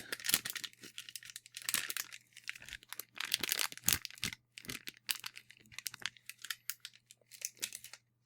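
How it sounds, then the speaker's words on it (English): Close, crisp crinkling and crackling of plastic, in irregular bursts that continue steadily with short gaps, no voices. "Or I could try plastic rustling."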